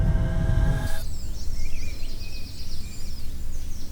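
Wild birds sing outdoors in bright, quick chirps and trilling phrases, moderately distant, following a brief low rumble at the start.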